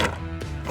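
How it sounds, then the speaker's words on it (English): A Team Associated PRO4 SC10 short course RC truck slams into a signpost, giving a few sharp, close knocks and thwacks in quick succession within under a second. "Oh, I ran right into that signpost."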